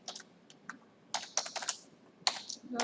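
Java compile commands typed on a computer keyboard at a command prompt: irregular bursts of crisp key clicks, a few isolated taps then rapid clustered strokes, close and fairly quiet with no talk.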